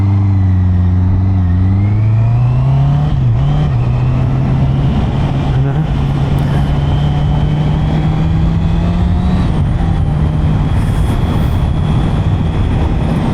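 A Honda CB650R motorcycle engine drones steadily while riding, its pitch rising then holding as the bike accelerates, loud and close with wind rush over it and no talking.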